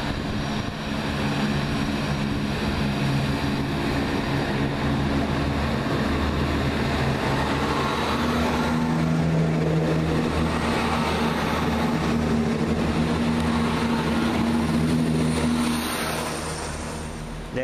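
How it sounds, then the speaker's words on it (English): A Chiltern Railways Class 168 diesel multiple unit departs Banbury station, its engine a loud, continuous throbbing drone that builds and holds close by with no talk. "just now departed, the slightly delayed 12:04 Chiltern Railways mainline service from Birmingham Snow Hill to London Marylebone"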